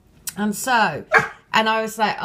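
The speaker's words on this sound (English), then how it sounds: "oh, that's my dog" A dog gives a few quick, close barks and yelps. A person talks over them throughout.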